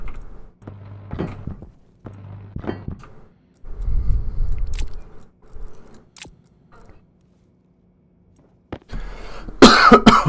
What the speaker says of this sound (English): Wish this cough would go away.